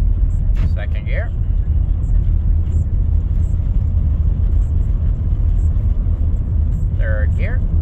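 A 1998 Dodge Grand Caravan SE with about 210k miles drives in second gear, giving a steady, fairly loud engine and road drone. Brief voices occasionally rise above it.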